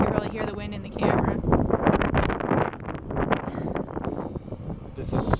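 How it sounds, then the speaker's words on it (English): Heavy, gusting wind buffets the microphone with broadband rumble throughout, while a voice talks over it. "It is really windy. You can really hear the wind in the camera."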